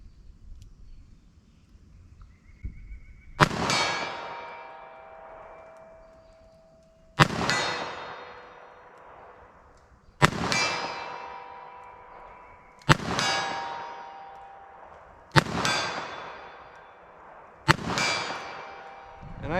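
A 3-inch revolver slow-fires six Remington .38 Special 158-grain semi-wadcutter rounds at a target 40 yards away. Each loud, evenly spaced report is followed by a long ringing decay.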